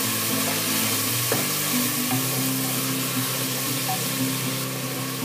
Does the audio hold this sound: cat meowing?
no